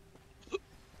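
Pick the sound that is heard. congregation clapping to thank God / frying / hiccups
hiccups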